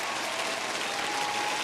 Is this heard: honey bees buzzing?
no